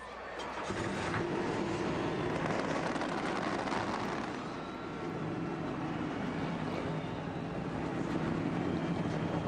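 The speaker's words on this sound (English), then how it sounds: "Engines are fired." NASCAR race car engines firing up together at the start of a race, a loud, dense, sustained roar of many V8 engines with a brief dip partway through, no talk.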